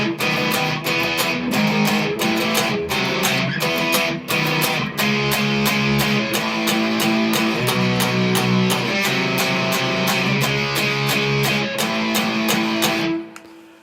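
The outro of the Fire Force opening theme is played on a distorted electric guitar in rhythmic strummed chord hits. It is loud and continuous, then ends abruptly with a final ringing chord.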